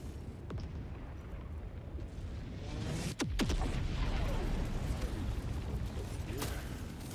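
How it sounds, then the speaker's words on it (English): Gunfire in the video game Helldivers sounds as dull booms and a few sharp cracks under a constant rumbling battle din, with faint voices now and then. "Gunfire will not interrupt my salute."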